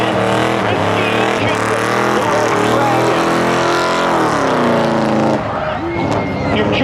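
A Chevy Camaro roars down the strip at a spectator drag race at Seekonk Speedway, engine screaming loud and close with rising and falling pitch as it accelerates and shifts, fading slightly toward the end.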